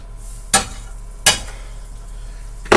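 Butter sizzling in a warming pan, a soft continuous hiss interrupted by three sharp scraping or stirring bursts, close and moderately loud.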